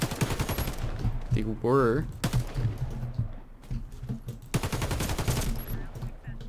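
An FN FAL DSA-58 rifle is tap-fired in the video game Warface, with short bursts of sharp shots in quick rhythm, loud in the mix, and someone talking between the bursts.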